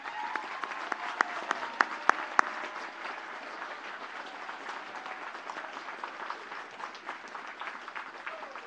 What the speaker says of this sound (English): Please give these students a very well-deserved round of applause.